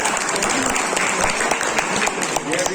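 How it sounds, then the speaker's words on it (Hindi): Loud, sustained applause from an audience at an awards and retirement ceremony for a Ramlila committee, a continuous dense clatter with a few voices audible through it. "ये जोरदार तालियां"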